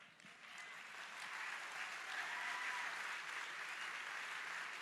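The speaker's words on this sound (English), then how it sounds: "Let's give a round of applause to Ben Carson." A large audience applauds after a speech honoring Ben Carson, a dense, steady roar of clapping that swells in the first second and then holds at a full, even level without any speech over it.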